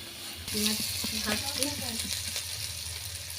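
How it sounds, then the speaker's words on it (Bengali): Potato pieces frying in hot oil in a pan, a steady close sizzle with bursts of crackle, a voice speaking briefly over it. "এই যে আলু কটা ভেজে নিচ্ছি, লাল লাল করে ভেজে নেব"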